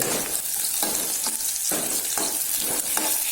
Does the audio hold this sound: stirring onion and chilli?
yes